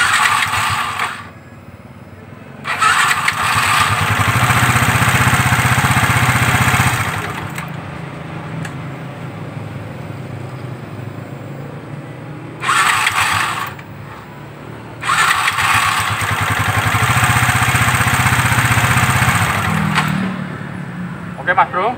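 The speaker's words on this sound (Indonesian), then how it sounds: "sekarang kita coba kita hidupin menggunakan double starter" Motorcycle engine with a hand-operated double starter cranks and catches, running loudly in bursts that cut out and restart, a rough idle continuing between them.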